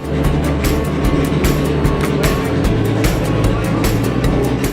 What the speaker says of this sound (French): Rien de tel que le baquet d'une Matra F1 et son V12 pour piquer un petit somme